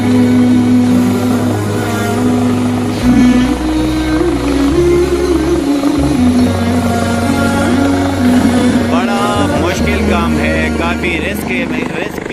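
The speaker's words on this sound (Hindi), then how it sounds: "एक और हेलीकॉप्टर भी आ गया" A rescue helicopter hovers over a stranded chair lift in the Allai area of Battagram, its engine and rotor drone steady and loud beneath a reporter's continuous speech.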